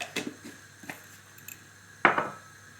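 A spoon stirs sugar dissolving in a pot with a little lemon salt for a simple dessert syrup, giving a few sparse metallic clinks and scrapes, with one sharper knock near the end, in an otherwise quiet kitchen.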